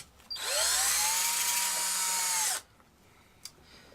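A power drill bores a .093-inch hole into a 4L65E transmission valve body during a shift kit install on a 2003 Escalade; one steady, loud whine of about two seconds with a sharp start and stop, followed by quiet.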